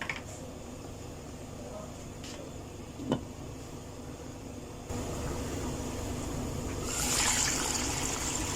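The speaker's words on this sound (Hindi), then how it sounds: "पानी हमारा, ग्रेवी हमारा बॉईल हो गया।" Gravy for a raw banana kofta curry boiling in a pot, a steady low bubbling and simmering hiss that grows slightly louder near the end, with faint room noise around it.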